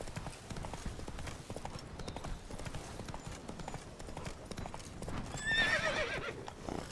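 Horse hooves clip-clop in a steady trotting rhythm while riding through brush in The Witcher 3, fairly quiet, with a short whinny near the end and a voice chatting faintly now and then.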